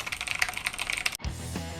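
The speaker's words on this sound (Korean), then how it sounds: "저는 한 손 독수리 타법이라고 볼 수가 있죠" Someone types very fast with one hand and two fingers on a computer keyboard, producing a dense, rapid run of clicking keystrokes close up. After about a second it cuts abruptly to a steady tonal background.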